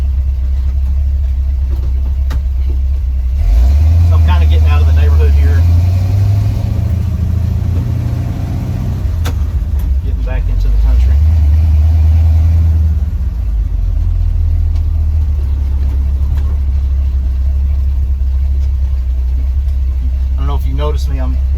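A 1970 Ford F100 pickup's engine rumbles steadily while driving out of a neighborhood, swelling as it accelerates and easing off between pulls, loud and close, with someone talking over it.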